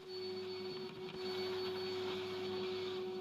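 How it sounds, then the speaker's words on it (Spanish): A steady, loud motor whine with a constant high hum runs throughout as a vacuum cleaner cleans up sanded MDF door panels close by, with no voices. "podemos limpiar todo con una aspiradora"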